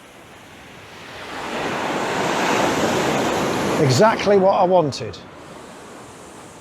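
Ocean surf rushes and breaks on the shore during a coastal landscape photography shoot, swelling into a steady roar before someone speaks briefly over the continuing wash of the waves.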